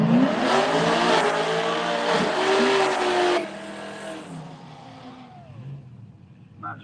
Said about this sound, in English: there's Rocco DeRigo back up in 11 Corvette out of Massachusetts.